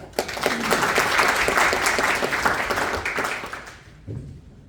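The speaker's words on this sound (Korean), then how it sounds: "박수 한번 쳐주십시오." A crowd at a Korean political gathering applauds steadily with dense, sustained clapping that fades out toward the end, followed by a brief low murmur.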